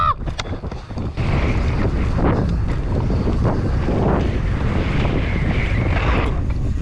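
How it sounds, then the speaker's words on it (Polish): Strong wind blows straight into the microphone outdoors, a loud, rough, low rumbling buffet that starts unevenly and then roars continuously for most of the clip. "Wieje w mordę!"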